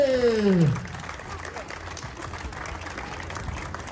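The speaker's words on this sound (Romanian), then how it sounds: "Haide să-l aplaudăm pe Armando Batechi!" Crowd applause at the awards ceremony of the Super Rally Targu Mures 2022, greeting the Ferrari 458 class winner; a steady wash of clapping and murmur follows a short voice at the start.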